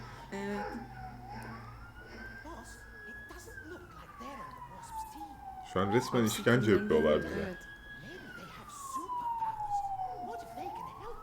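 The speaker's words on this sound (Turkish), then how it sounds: "Bu arada ambulans geçiyor yine." An ambulance siren wails past, its tone sweeping up and down steadily across the whole stretch at moderate distance, while people talk over it and game sounds burst in briefly midway.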